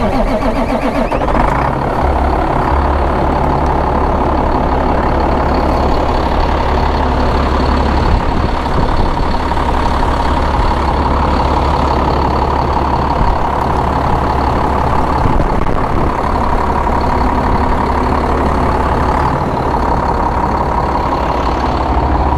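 A used Kenworth semi truck's diesel engine idles steadily and loudly up close, a continuous low rumble with mechanical clatter that holds even throughout with no talking.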